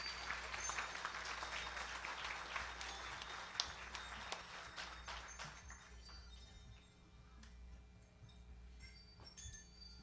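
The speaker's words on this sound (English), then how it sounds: "Another round of applause." Applause from a church congregation during a Christmas-season baby dedication service, steady clapping that is loudest at first and then thins out to scattered claps.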